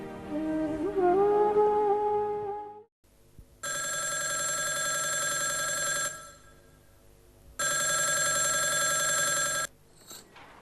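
A telephone bell rings in two long bursts separated by a short pause, loud and close in a quiet domestic scene, after a few seconds of soft music at the start.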